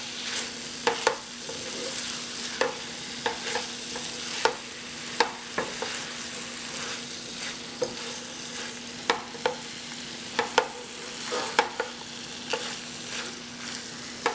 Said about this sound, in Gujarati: બસ આને ફાઇન રીતે આપણે હલાવી